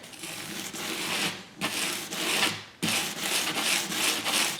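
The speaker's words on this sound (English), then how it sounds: "So this is when you're going to be sanding away any fuzzies from the foam" An 80 grit sanding sponge rubbing over foam in long, gritty rasping strokes, three close passes separated by brief pauses, with no talk.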